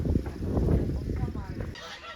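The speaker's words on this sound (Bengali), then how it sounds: "এগুলোকে রাজহাঁস বলে" Domestic geese honk in a rural village, giving a cluster of harsh, overlapping calls close by that fade toward the end.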